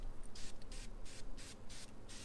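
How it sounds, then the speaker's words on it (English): Short hissing bursts of freshener spray hit the foam lining inside a motorcycle helmet, about six quick, close puffs in a row with brief pauses between. "I'm just going to spray it in."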